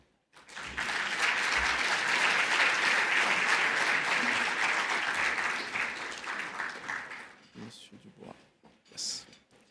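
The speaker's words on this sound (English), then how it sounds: "please give them a round of applause" A conference audience applauds panelists taking the stage at a forum on the main stage, a sustained wash of many hands clapping for several seconds before fading, with brief talk and shuffling at the tail.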